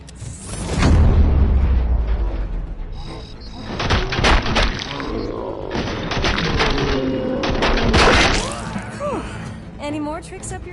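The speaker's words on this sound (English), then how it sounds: "Let me use the SMG right here." SMG fire in RoboCop: Rogue City, loud close bursts of rapid shots mixed with impacts, crashes and booming effects, with voices speaking over the action.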